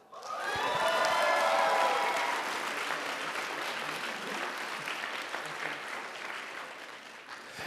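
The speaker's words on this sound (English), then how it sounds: "Applaud!" Convention audience at an anime con Q&A panel claps for a guest, the applause swelling quickly to a loud peak with a brief whistle or cheer at the start, then gradually thinning and fading.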